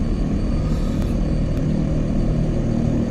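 An OV10 Bronco twin-propeller aircraft in a VR flight game gives off a steady, loud engine-and-propeller drone that fills the whole stretch without a break and without any talk.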